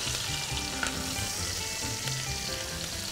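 Lamb shoulder sizzles steadily in a pan of melted butter with rosemary, thyme and garlic, a loud continuous frying hiss, close up, with faint spoon clinks from basting and no talking.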